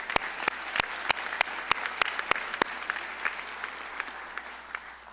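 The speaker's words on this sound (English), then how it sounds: "Go ahead, give yourselves one more round of applause." Graduates applauding themselves at a Gateway Technical College fall commencement ceremony, a crowd's clapping with a series of sharp, close, evenly spaced loud claps standing out over the broader applause, which gradually thins and fades.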